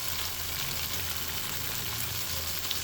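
Potatoes and spice masala fry in oil with a steady, soft sizzle and crackle that holds evenly for the whole stretch, with no voices.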